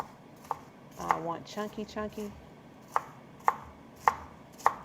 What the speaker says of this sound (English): I'm gonna chop them just a little bit more